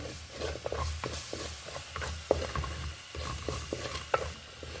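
Chili powder and garam masala fry in oil for a potato kurma, with a soft sizzle under rhythmic scraping stirs of a spoon against the pan, close by and without talk.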